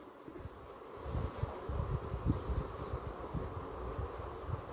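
Honey bees hum around an open hive colony nearby, a continuous low buzzing swarm with fluctuating intensity and faint rustling, no voices.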